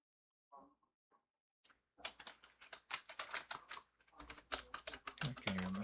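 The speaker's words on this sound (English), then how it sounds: "I can hear myself typing" Keys clatter on a computer keyboard in quick uneven bursts, close and crisp, following a few soft sounds and a short silence, with a short tone at the end.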